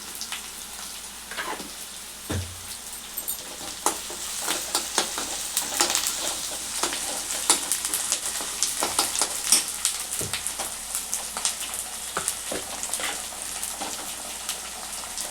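Ginger paste and turmeric fry in a pan, giving a continuous crackling sizzle with scraping stir strokes, close and alone with no talk.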